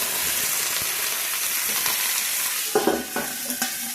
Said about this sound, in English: The oil is splattering because there was a little bit of liquid in the chicken thighs